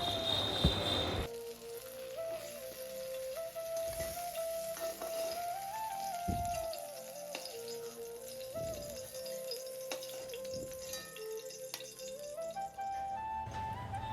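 Eggplant slices frying golden brown in hot oil, a steady dense sizzle running throughout with a brief bright crackle at the start and a faint tonal whine running beneath.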